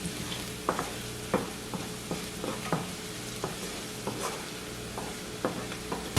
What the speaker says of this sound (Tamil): ஒருக்கா மிக்ஸ் பண்ணி போட்டு ஒரு 30 செகண்ட்ஸ் இதை வதங்கினா காணும்